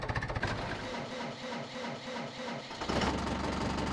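Vehicle engine running in the Farming Simulator 2011 video game, a quiet, steady mechanical whirr with a pulsing, cycling tone that shifts abruptly to a brighter, buzzier drone near the end, heard alone.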